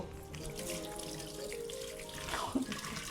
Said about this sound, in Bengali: এবার আমরা হাতটা ধুয়ে নিব